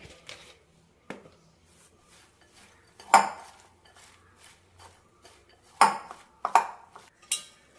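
Sporadic clinks and scrapes of a spoon mixing cabbage pakoda batter with curry leaves and salt in a bowl, several sharp knocks standing out in otherwise quiet surroundings.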